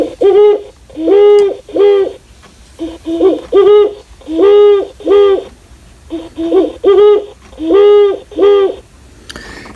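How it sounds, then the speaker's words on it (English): A singing bird clock plays a great horned owl recording, loud and near, with a series of deep paired hoots in steady rhythmic groups and short pauses between them, ending with a faint click. "Let's go back to the great horned owl"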